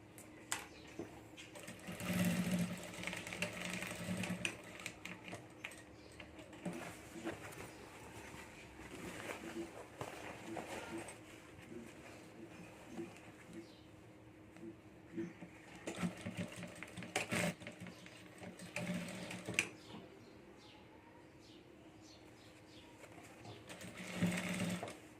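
A sewing machine stitches a handmade boho bag along the zip strip, running in steady motorized bursts with short pauses, close and clear, while someone talks at times.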